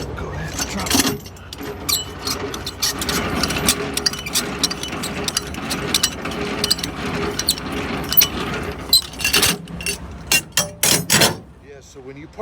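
Landing gear legs on a semi-trailer parked in dirt being cranked down, giving steady mechanical ratcheting and clanking at close range over a truck engine rumble, ending in a run of sharp metallic clicks.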